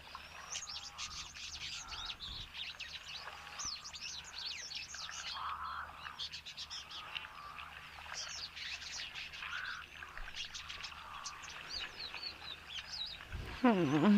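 Birds, apparently crows, call repeatedly in the distance, chirps and caws scattered over a quiet outdoor background, fairly faint and steady.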